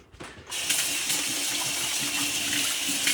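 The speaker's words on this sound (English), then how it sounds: "Let me wash my hands again." Hands being washed under a running kitchen tap while making pepperjack stuffed meatloaf, a steady broadband rush of water starting after a brief quiet moment and continuing close and loud.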